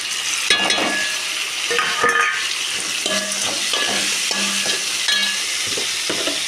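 Tomatoes tumble into a pan of softened frying onions for a chutney, giving a steady broadband sizzle with repeated scraping and stirring clinks, close and fairly loud, with no voices.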